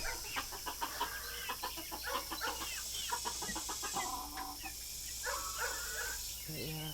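Backyard hens and a rooster cluck and squawk in quick irregular bursts close by, with a louder call near the end over a low steady background hum.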